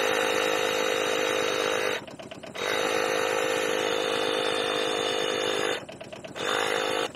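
An electric tyre pump inflates a tyre on an Aixam Mega Multitruck with a loud, steady motor drone, cutting out briefly twice before starting again, close to the microphone.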